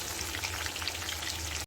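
Garlic and onion frying in a pan for a fenugreek seed saaru, a steady, close, even sizzle and crackle that holds throughout without any talking.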